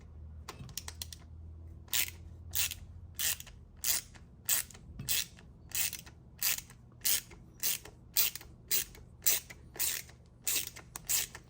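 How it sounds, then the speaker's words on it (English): A ratchet wrench loosening a bolt on the rear barn door of a 1997 Suburban clicks in close, steady bursts, repeated rhythmically for several seconds. "Here I have the adjustable wrench with the ratchet"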